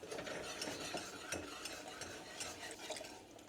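A flour roux being stirred in a pot for clam chowder, making a steady scraping, rasping swirl with small clicks of the spoon, close and continuous throughout.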